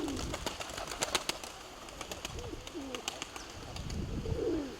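Soft pigeon coos repeat a few times at close range, with faint chirps and light rustling around them.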